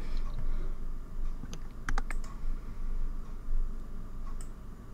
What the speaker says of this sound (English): we're getting quite a bit of typing off you.